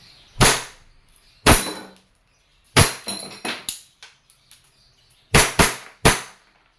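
A WE Airsoft 1911 Type B gas pistol fired in a series of sharp, loud cracks, some spaced apart and some in quick pairs, with fainter clicks and handling noises between shots and no talking.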